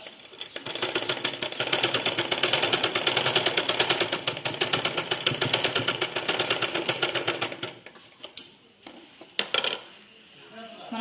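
A sewing machine stitches cloth at the shoulders of a keyhole-neck garment, a steady rapid mechanical whir for several seconds, then stopping and giving way to scattered clicks and handling clatter.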